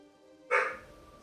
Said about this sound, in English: Why is Shadow barking?